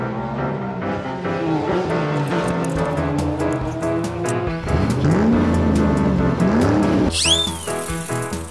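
A toy racing car effect from a Tomica and Disney Cars play set: a loud, continuous revving engine with rising pitch sweeps and a sharp tire squeal near the end.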